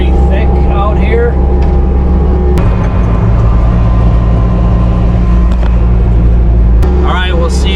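A skid steer loader's engine drones loud and close while driving through thick woods in Southern Illinois, a steady low rumble that shifts pitch partway through, with a person talking over it.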